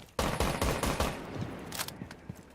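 Rapid SMG-11 fire in a video game, tapped in short bursts of close, loud shots while spawn peeking, the cracks trailing off into lighter scattered pops.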